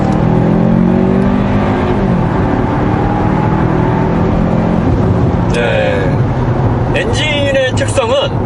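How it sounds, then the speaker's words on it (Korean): Hyundai Kona 1.6T turbo engine in sport mode pulls with a rising, steady drone under constant road and wind noise, while people talk inside the cabin. "지금 이제 엔진의 반응성을 보기 위해서 약간 속도를 줄였다가 스포츠 모드에서"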